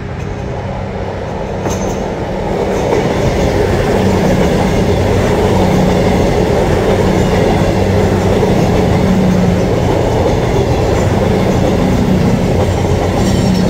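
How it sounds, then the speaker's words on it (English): A train passing through Manors station in Newcastle, a loud, steady roar of wheels and rail noise with clattering, building as it nears and holding close throughout. "coming down the one right in front of me right now is the train I love."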